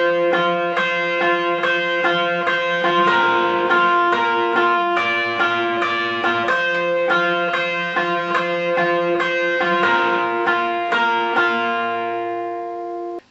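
A distorted electric guitar plays a rhythmic chord riff, thick and buzzy, steady throughout before the last chord rings out and cuts off.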